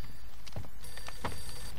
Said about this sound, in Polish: Telefon nam dzwoni.